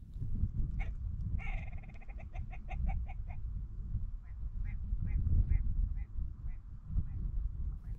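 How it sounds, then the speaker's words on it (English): A red grouse gives a quick, stuttering run of clucking calls while displaying on Dartmoor moorland, then a few shorter calls, over steady wind rumble outdoors. "here he was proudly calling and displaying in front of me."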